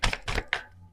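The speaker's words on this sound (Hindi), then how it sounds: "Last shuffle." A deck of tarot cards is shuffled in three short, crisp bursts of card slaps close to the microphone, fading into quiet.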